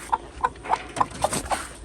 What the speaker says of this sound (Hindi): और जो इधर ये काली मुर्गी रात को बंद की थी, वो खोल लेते हैं।